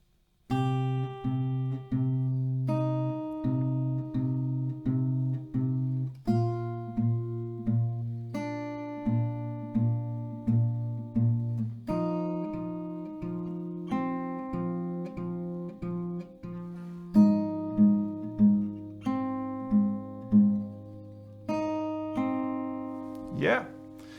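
An acoustic guitar plays a pop song slowly from start to finish, steady strummed chords changing every few seconds in a close, clear, unaccompanied performance.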